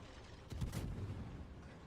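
A single deep tank cannon shot booms in World of Tanks, a short heavy blast with a brief rumbling tail, moderately loud against a steady background hum.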